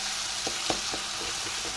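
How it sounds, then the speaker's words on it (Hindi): Tadka for dal sizzling in hot oil, a steady bright frying hiss with a few soft stirring knocks spaced through it, close and moderately loud, no talking. "और दाल के लिए भी तड़का साथ में बन ही रहा है।"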